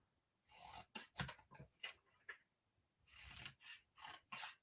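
Scissors snipping through paper card pieces for card making, repeated close crisp cuts in uneven bursts with short pauses between, fairly quiet and with no talking.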